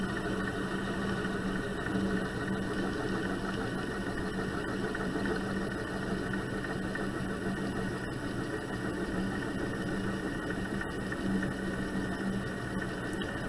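A wood lathe spinning at about 600 rpm while a deer antler is turned for pen making, giving a steady, continuous motor hum and whir at moderate level, unbroken and alone throughout.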